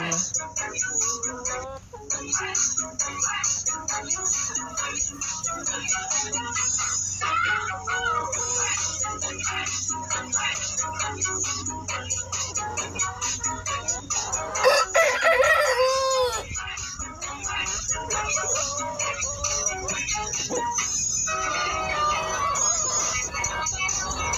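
Chickens cluck repeatedly and a rooster crows once midway, close and fairly loud, over a background of farmyard noise.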